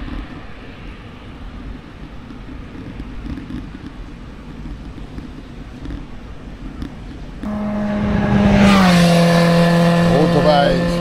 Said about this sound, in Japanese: オートバイスピード出てる。